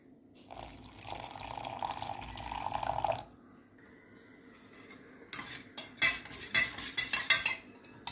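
A spoon stirs a cornflour and water mixture in a cup, giving a steady scraping swirl for a few seconds, followed by a quieter pause and then a series of sharp, close spoon clinks against the cup.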